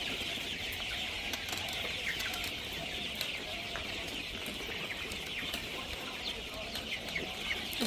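Several chickens cluck softly and steadily while they feed, close by, with an occasional flutter of wings over a constant hiss in the background; no one speaks.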